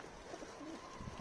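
Pigeons coo softly in low, rolling calls, a gentle continuous murmur against faint background hiss.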